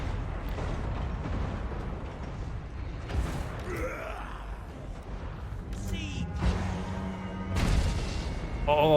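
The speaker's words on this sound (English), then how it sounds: "Oh, that explosion just wiped out that unit." Explosions and battle noise in the strategy video game Total War: Warhammer 2, with booming impacts and rumbling effects amid a dense, continuous din of combat sounds.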